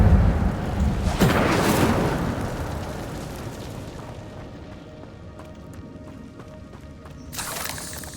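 An Incendio fire spell in a Hogwarts game bursts with a loud whooshing boom that rumbles and fades over several seconds, followed by a quieter flare near the end.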